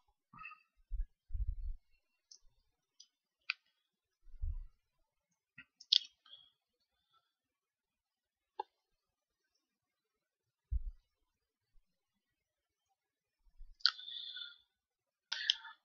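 Scattered computer mouse clicks during software navigation, sharp, soft, isolated taps with long silent gaps between them, close and faint in a quiet room.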